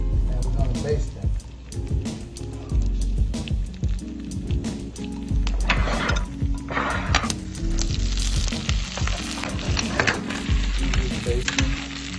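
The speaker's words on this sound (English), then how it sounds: "We're gonna put them back into that mixture. And we're gonna baste them." Steaks are basted in a sizzling mixture in a pan, with continuous frying crackle and spoon scraping and squishing, while a person talks over the cooking.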